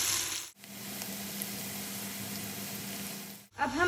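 Chopped onions fry in a pan for white mutton korma, giving a steady, close sizzle that runs for about three seconds between short breaks, with no talk over it.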